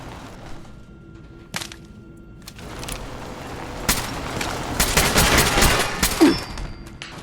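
Gunfire in Fallout 4's Far Harbor Vault 118, sharp isolated shots early on, then a denser burst of cracking fire building toward the end, moderately loud against a quiet ambient background.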